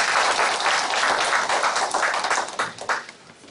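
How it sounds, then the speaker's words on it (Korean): Church audience clapping at a Korean teachers' lecture, a full, steady round of applause from a room of people that thins out and fades after a few seconds. "박수 한번 주시겠습니까?"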